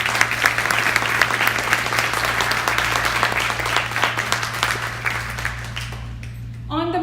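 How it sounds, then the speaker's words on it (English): Loud, sustained audience applause for a violinist at a welcome and invocation ceremony, many hands clapping densely and close, with a low steady hum beneath and the clapping thinning toward the end. "Let's have a round of applause for the talented violinist"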